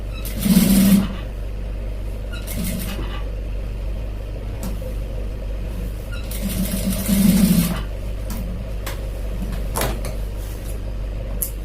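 A sewing machine stitches along the waistband of a pair of pants in two short bursts, near and clear, with quiet pauses and faint handling sounds between the runs.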